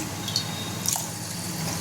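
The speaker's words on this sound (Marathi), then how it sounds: "तांदूळ स्वच्छ धुवून घेतले त्याच्यामध्ये आपण पाणी टाकून ठेवूया" Water is poured into a pot of washed rice, giving a steady, soft splashing hiss with a few faint drips.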